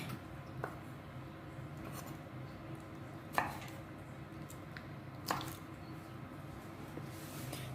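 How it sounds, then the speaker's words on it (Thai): Quiet kitchen sounds with a few sharp knife cuts through squid on a board, spaced a second or two apart, over a faint background hum. "หมึกน้อยก็จะหั่นเป็น สามชิ้นค่ะ"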